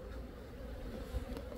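A dense, low buzzing of many Asian honeybees swarming close by, droning steadily without pause.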